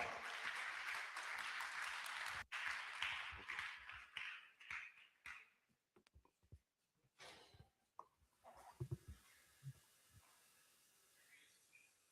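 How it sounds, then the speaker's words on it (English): An audience at a book launch claps in warm applause that starts full and dense, then thins into scattered, fading claps. "Please give him a hand of applause."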